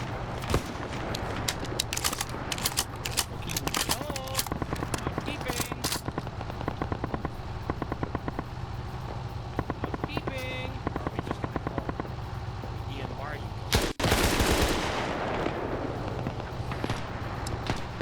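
Rapid bursts of buzzsaw machine gun fire in a military video game rattle out repeatedly over the whole stretch, loud and close, with a sharp blast near the end and voices talking underneath.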